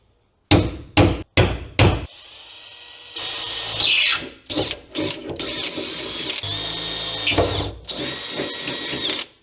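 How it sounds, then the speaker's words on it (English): Several sharp punch strikes followed by bursts of power drilling into a shifter plate for a Honda Civic shifter fitted in an Integra Type R, close and loud with short pauses between drill runs. "Now all I have to do is punch the holes and start drilling."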